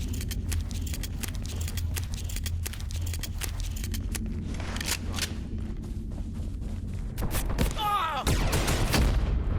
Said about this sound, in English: Whoa, that was a grenade.